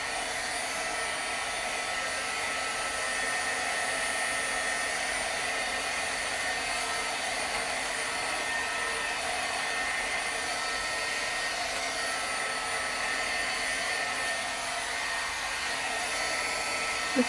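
A hair dryer blowing on a watercolor card for a papercraft project, a loud, steady whooshing drone that runs unbroken for the whole stretch with no talking.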